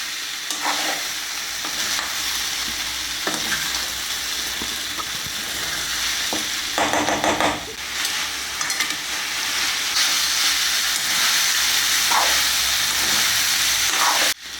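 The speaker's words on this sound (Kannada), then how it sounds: "ಇದನ್ನು ನೀಟಾಗಿ ಒಂದು 5 ನಿಮಿಷ ನೀಟಾಗಿ ಫ್ರೈ ಮಾಡ್ಕೊಬೇಕು." Chicken pepper masala frying in a pan, a steady loud sizzle with hissing steam running throughout, broken by occasional scraping stirs of the spatula; no voices.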